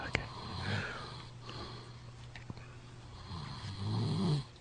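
A man asleep on his back snores in low rumbling breaths, two strong snores at the start and end with quieter breathing between, heard close under a faint background hum.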